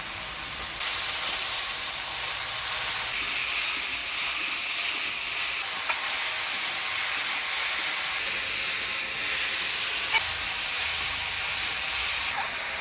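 Spice paste with turmeric and salt stirred in a frying pan, a steady close hiss and sizzle running throughout with a few faint clicks of the utensil, no voices.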